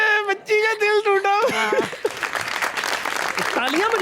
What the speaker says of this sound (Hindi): तालियां बजा रहे हो, तालियां बजा रहे हो।